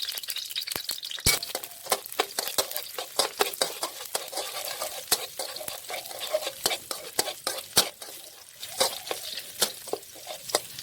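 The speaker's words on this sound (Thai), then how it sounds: "นำกระเทียมที่เรา หั่นซอยนะครับ ลงไปเคี่ยวให้หอมก่อนนะครับผม" Sliced garlic frying in vegetable oil in a pan, a steady close sizzle punctuated by frequent sharp clinks and scrapes of a utensil stirring against the pan, with no talk.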